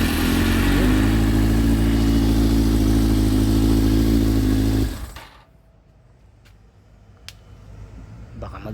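A Yamaha FZR1000 motorcycle engine, freshly rebuilt carburettor, runs loud and steady at close range for about five seconds, then cuts off abruptly, leaving quiet background with a few faint clicks.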